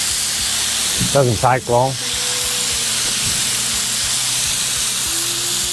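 Cod fillets fry in hot coconut oil with a steady, close sizzle and hiss that carries on throughout. Someone speaks briefly over the frying near the start.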